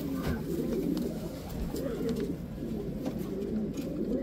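Racing pigeons coo steadily in a loft, a dense overlapping chorus of low throaty calls that carries on through the whole stretch at moderate, close range.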